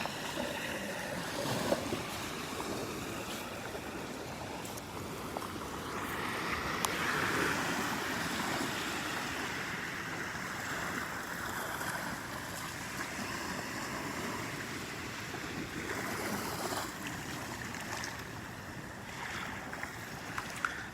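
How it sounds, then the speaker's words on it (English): Steady surf washes in continuously at Pawleys Island beach, a broad wash of breaking ocean waves with wind, even and unbroken throughout with no voices. "they can come to Pawleys Island and they can see the ocean"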